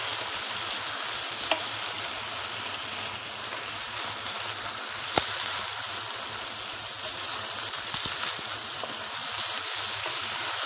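Potatoes and onions sauté in a pan with a constant bright sizzle and hiss, a couple of sharp clinks from stirring rising briefly above the frying.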